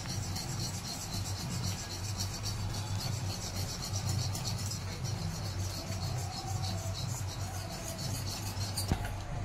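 Mango rice kheer stirred in a pot, a steady close scraping and rubbing of a spoon against the pot over a constant low hum, with no speech.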